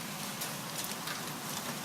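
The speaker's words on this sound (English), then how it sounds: "It's raining all over my phone." Rain falling during a thunderstorm, a steady dense hiss of drops close by, with no voices.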